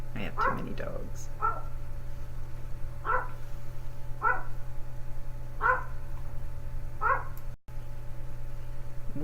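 Several dogs give sharp, evenly spaced barks and yips, faint against a constant electrical hum, with one brief dropout near the end.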